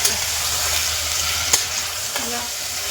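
Mutton curry is stirred and fried in a pan, a continuous loud sizzle with a few sharp scrapes and clinks of the spoon against the pan.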